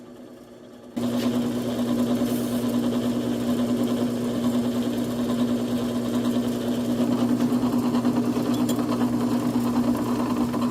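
A power drill fitted with a hole saw bores steadily through a pilot hole, a loud continuous whine starting abruptly after a second of quieter room noise and holding a constant pitch for the rest of the cut.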